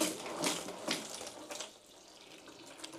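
Water pours through a pipe into a fish tank during cleaning and setup, a steady running splash like a tap filling a sink, fairly close and moderately loud, with a few stronger surges early on and no talk.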